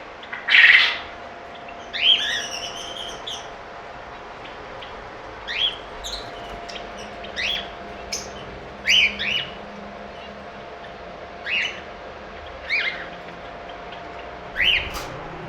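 Caged breeder pairs of lovebirds, cockatiels, java sparrows and pigeons chirp in short, sharp bursts at a steady, scattered pace, close by over a faint background hum.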